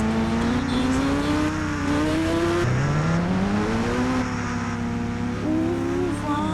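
Kawasaki Ninja S2R motorbike engine in the Indian Bikes Driving 3D video game, a steady loud drone whose pitch glides up and down through gear shifts and throttle changes, running continuously with no gaps.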